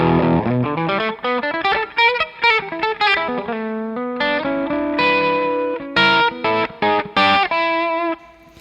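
A distorted electric guitar plays a quick run of notes then sustained chords through a REVV D20 amp with its power section off, with a somewhat thin, bright tone and no talking.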